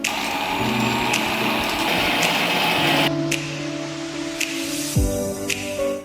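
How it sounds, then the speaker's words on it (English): A stand mixer whisks about a cup of heavy cream toward firm peaks, a loud, steady mechanical whir with a shift in pitch partway through and a brief knock near the end. "It's gonna go into my stand mixer. I have about a cup, and we're gonna whisk it up until some firm peaks form."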